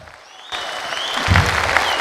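Applause from a concert audience starts abruptly after a quiet moment and swells into a loud, dense wave of clapping, with music or voices faintly underneath.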